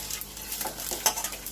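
Panch phoron seeds and a bay leaf crackle in hot mustard oil with short, uneven pops and light stirring taps over a soft sizzle, all close and without speech.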